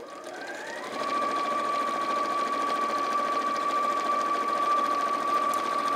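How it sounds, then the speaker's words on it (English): Close by, a sewing machine runs continuously around a seam, its even mechanical drone starting after a brief quiet moment and holding steady to the end. "I'm just going to sew all the way around"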